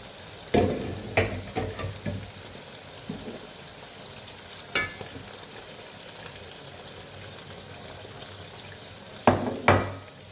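Four eggs poured over beans in a hot frying pan give a soft steady sizzle, with a few scraping stirs and clatters of a utensil against the pan near the start and again at the end.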